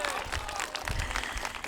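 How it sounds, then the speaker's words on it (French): An audience applauds at a televised game show after a team scores four goals out of five, a dense, steady patter of clapping from the crowd, with some voices mixed in. "Vous pouvez les applaudir très très fort."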